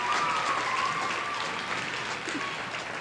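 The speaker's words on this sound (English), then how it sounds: "Give her a round of applause." An audience at a 2013 middle school talent show claps steadily at a moderate, slightly distant level, a dense wash of applause with no voice over it.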